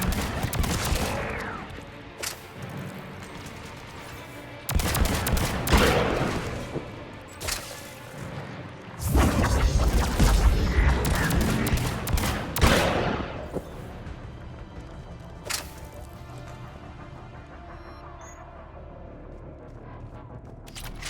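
Battle gunfire in the shooter Mass Effect 3, with repeated bursts of loud weapon fire and heavy impacts coming in waves, broken by quieter stretches and a few distant shots.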